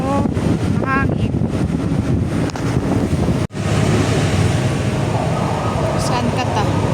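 Strong wind blows steadily outdoors on a sunny day, a loud continuous rush buffeting the microphone throughout, with a brief dropout midway and faint voices in the background.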